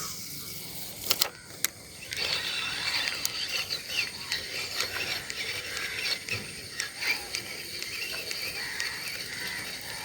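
A Titan fishing reel ratchets during a cast from a small boat, its clicks fast and close in short bursts with a few sharp snaps early on, then a steady whirring run.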